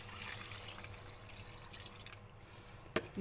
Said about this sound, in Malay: Dan kita tuang susu.